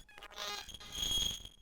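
A Joranalogue Orbit 3 synthesizer module produces shimmering, bell-like metallic tones over a hissy, modulated wash, swelling and shifting for under two seconds, with no talking.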